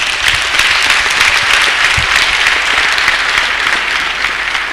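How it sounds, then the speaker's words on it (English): Loud, sustained applause from a large crowd, steady and dense throughout with no pauses. "Maybe the clap could even be louder."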